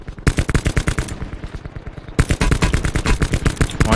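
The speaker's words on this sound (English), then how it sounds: "The guns are shooting, boys" Rapid automatic gunfire in Call of Duty Blackout rattles loud and close in long sustained bursts, with a brief pause before the shooting resumes.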